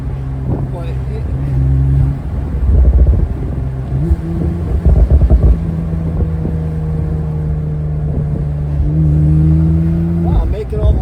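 A 2015 Porsche 911 Turbo S (991.1) with a modified exhaust drives top down, its engine droning and rising and falling in pitch through several gentle accelerations, loud and close, with someone talking over it.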